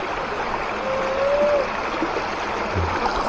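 A river flowing beside a cremation ghat at night, a steady close rush of water with a soft trickling texture and no voices.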